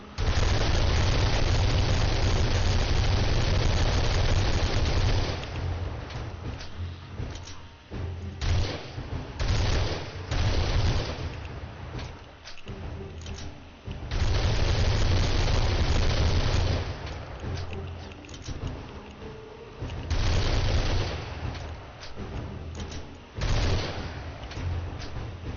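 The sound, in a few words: gunfire from favorite gun in video game 7 Days To Die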